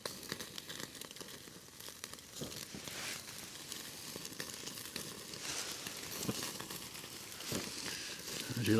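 Steak sizzling on a stick stove grill top under a tarp on a beach, a steady crackling fry with small pops running throughout at close range, no voices.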